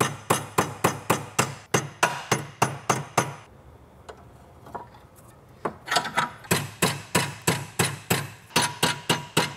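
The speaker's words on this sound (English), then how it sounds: "I'm gonna use a sophisticated method known as smashing it with a hammer." Sharp, rhythmic hammer blows ring out on a metal pipe, fast regular strikes that stop briefly for a few scattered taps, then resume in a steady run.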